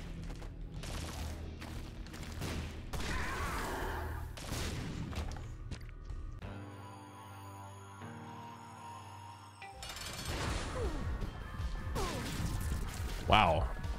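Explosion during a run of The Binding of Isaac: Repentance, a burst of crashing game noise amid busy effects and music, loud and close, with a voice talking over parts of it.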